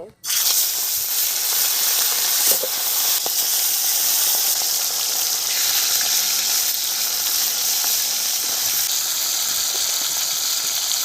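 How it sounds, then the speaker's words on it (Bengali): Pomfret fish frying in hot oil in a kadai, an intense, steady close sizzle starting abruptly and holding loud throughout with faint clinks. "তেল গরম হয়ে গেছে এখন আমি পমপ্লেট মাছগুলো ভেজে নেব"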